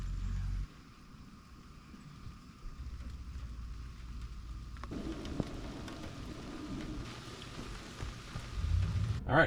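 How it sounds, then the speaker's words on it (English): Steady rain falls on a campsite tent pitched on broken-up asphalt, a dense, even patter that thickens and grows louder partway through, with no voices. "The rain is back"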